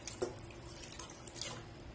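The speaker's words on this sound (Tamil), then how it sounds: "இது கூடவே ஒரு கப் அளவுக்கு தண்ணி சேர்த்திக்கலாம்." Water is poured into a pot of orange rasam made with tomato and dal, giving a soft, steady liquid trickle with a faint splash near the start.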